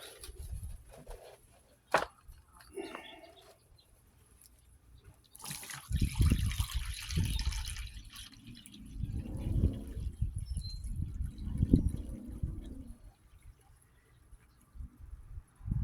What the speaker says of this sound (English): this creek is right in the middle of town